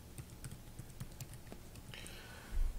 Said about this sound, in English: you can just type in, let's say you want to type in your name, David